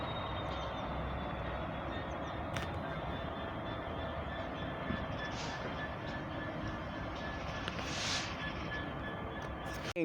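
An East Midlands Railway train arrives at Leicester station, a faint, distant rumble of the approaching train holding steady over ambient station noise with a couple of brief squeals.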